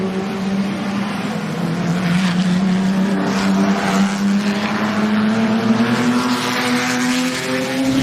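A Jaguar XK120 Mistral racing car with a C-Type Jaguar engine drives past, its engine note climbing steadily as it accelerates, loud and sustained with a droning tone.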